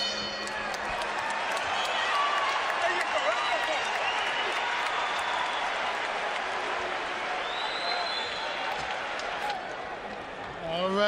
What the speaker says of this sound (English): Crowd is into it now.